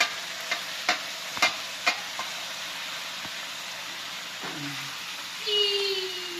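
Meat added to a pan of sautéed onion and garlic for dinuguan sizzles in a steady frying hiss, with a few sharp clinks of a utensil stirring at the start and a swell near the end.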